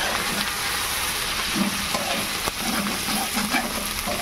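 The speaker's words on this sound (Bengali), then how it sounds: "আদা আর হিংটা আগে তেলের মধ্যে দেবেন, এটা ভেজে নেবেন।" Ginger paste and asafoetida fry in hot oil, giving a steady, close sizzle with light stirring scrapes throughout.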